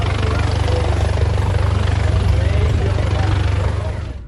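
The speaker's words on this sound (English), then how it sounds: "Helicopters circled." Helicopters circle over the sea near a cruise ship during a search for a woman who fell overboard, giving a loud, continuous rotor-and-engine drone that holds steady and then fades out at the end.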